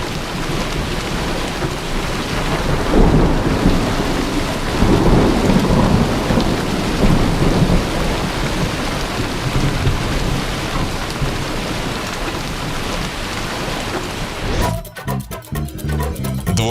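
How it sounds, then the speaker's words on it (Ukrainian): A thunderstorm with heavy rain and hazelnut-sized hail in India lashes down steadily and loudly, with dense drumming on surfaces and low rumbles, until a different patterned sound cuts in near the end. "Гроза з градом тривала не більше 15 хвилин."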